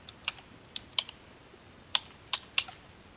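Close, crisp keystrokes on a computer keyboard while entering details into an online registration form. There are about seven sharp clicks, spaced unevenly with gaps between, and no talking.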